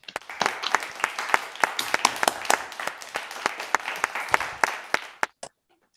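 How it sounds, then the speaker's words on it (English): Online meeting participants applauding: scattered, uneven hand claps from a small group, fairly faint and thin, tapering off into silence at the end. "could I get everybody to unmute and give them a round of applause?"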